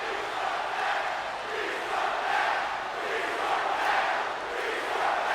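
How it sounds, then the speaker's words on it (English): A wrestling show crowd chants in unison for the match to restart, a dense, rhythmic swell of many voices pulsing evenly from the arena stands and filling the whole stretch. "You can hear the crowd chanting"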